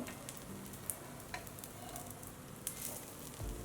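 Oil sizzling on a hot dosa pan over high flame while making soft horse gram dosa, a steady quiet frying hiss with a few faint clicks, close and unbroken.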